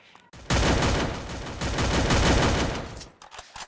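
Rapid gunfire in a shooting video game, a loud dense burst of automatic shots lasting about two and a half seconds before cutting off abruptly.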